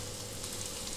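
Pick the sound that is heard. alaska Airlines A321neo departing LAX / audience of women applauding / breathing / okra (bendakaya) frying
okra (bendakaya) frying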